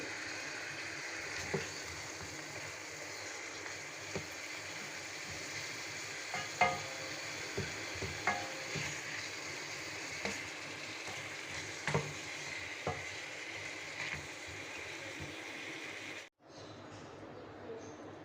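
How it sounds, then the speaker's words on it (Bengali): Country chicken pieces with egg and liver sautéing in a spice paste in a pan, a steady close frying sizzle with occasional stirring scrapes and clicks throughout, ending abruptly near the close. "মাংসটা কষিয়ে নিলাম"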